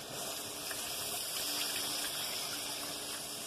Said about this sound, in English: So I'm getting ready to slowly add some water.